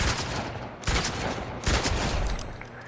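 Sniper rifle fire in Fortnite: two sharp, loud shots about a second apart, each cracking out over a busy, dense game background with no talk.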